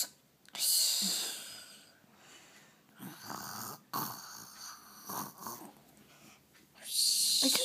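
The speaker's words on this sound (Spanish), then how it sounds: "¿Por qué roncas? Porque me gusta roncar." A baby snores while lying in bed, slow rasping breaths that swell and fade several times, close and fairly quiet, with voices talking in between.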